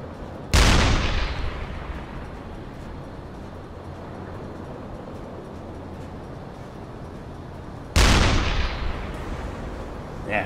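A U-boat deck gun fires at a ship in a submarine video game: two loud booming shots several seconds apart, each with a long rumbling decay, over a steady background of sea and engine noise.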